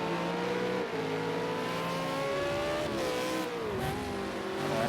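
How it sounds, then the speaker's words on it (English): A V8 Supercar engine in a racing video game at Bathurst's Mount Panorama roars steadily, its pitch rising and dipping as it revs, loud and close with no other sounds. "That's Vortex's car"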